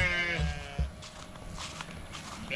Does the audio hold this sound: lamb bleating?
yes